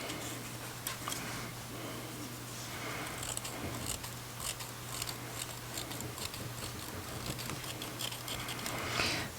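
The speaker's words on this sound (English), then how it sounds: "with your little sharp snappy scissors you can just trim those" Small sharp scissors snip yarn on crochet work repeatedly up close, a series of crisp, irregular clicks over a low steady hum, with no talking.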